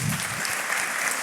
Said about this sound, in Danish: Og vi klapper lige igen.